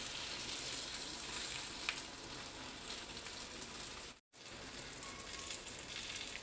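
Egg-stuffed capsicums fry in an oiled pan, giving a steady, dense sizzle that runs unbroken apart from one brief dropout near the end, with no voices over it.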